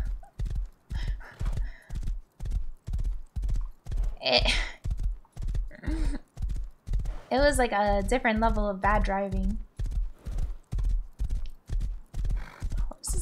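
Horse hooves clip-clop at a steady gallop in the game Rust, a loud continuous rhythmic beat running throughout, with a whinny midway and a person talking over it.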